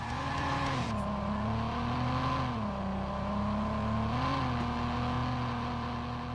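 Steady engine drone of a fast Mercedes-Benz driving in the Watch_Dogs video game, a close, sustained hum that dips and rises gently in pitch as the car shifts, with no speech.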